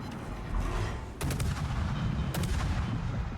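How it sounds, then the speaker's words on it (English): Secondary guns of an enemy warship in World of Warships fire at a Soviet Kiev destroyer, giving two sharp booming salvos over a constant low rumble of engine and sea noise. "This guy's secondaries are actually firing at you."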